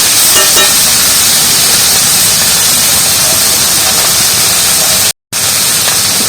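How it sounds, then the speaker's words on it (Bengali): Potato pieces with turmeric powder sizzle and hiss steadily in hot oil while being stirred, a dense, loud, continuous frying sound with a brief break near the end. "এইভাবে নাড়িয়ে নাড়িয়ে করে ভেজে আলু ভাজা"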